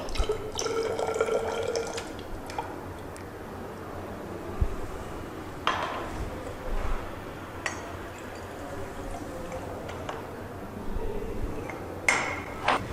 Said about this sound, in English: add 50 ml of distilled water